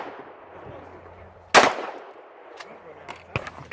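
A gunshot rings out at an outdoor shooting range, one sharp loud crack followed by a few fainter distant pops and clicks.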